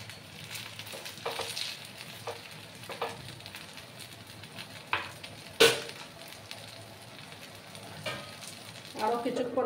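Oil sizzles softly in a pan while a rice-based breakfast fries, a faint, steady crackle broken by occasional spatters and the scrape of a spatula stirring the food.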